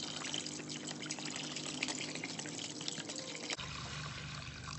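Vinegar pouring from a gallon jug into a container during a wrench restoration, a continuous gurgling splash that is fairly faint and steady, ending abruptly near the close.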